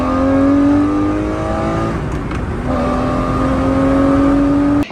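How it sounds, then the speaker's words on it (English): A Lamborghini Murcielago with a manual six-speed gated shifter accelerates hard, its loud engine note rising in pitch through a gear, then a brief drop at the shift before it climbs again. Heard up close, with no talk. "I am in a Lamborghini Murcielago with a manual 6-speed transmission"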